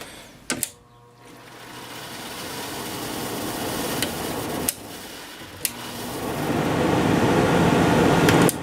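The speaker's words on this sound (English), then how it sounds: "Fan is working fine. Compressor started without a problem." Fedders window air conditioner running after capacitor and switch repair, its fan and compressor giving a steady broadband whir that slowly grows louder, with a few sharp clicks and knocks near the start and midway.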